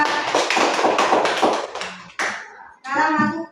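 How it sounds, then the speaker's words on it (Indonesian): Children in a classroom clap together for one small group after a correct answer, a dense burst of hand claps lasting about two seconds, then a few shorter claps and voices as it dies away. "tepuk tangan buat kelompok 3"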